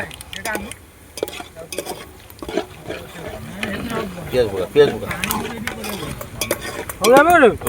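Onions fry in a pan with whole spices for mutton curry. Sizzling is broken by frequent scrapes and clinks of a ladle stirring against metal, and a person speaks over the cooking.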